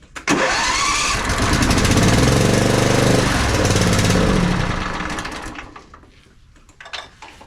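A zero turn mower engine with a stalling problem cranks and roars loudly at close range, then winds down and fades toward the end.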